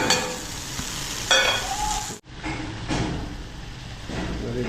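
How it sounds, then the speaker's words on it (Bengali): Ground spices frying in a pan with onion, ginger, garlic and tomato give a steady close sizzle with stirring scrapes; the sound cuts out abruptly for a moment, then the frying resumes. "মশলা ভাজা হয়ে এসছে, পেঁয়াজ, আদা, রসুন, টমেটো দিয়ে দিচ্ছি।"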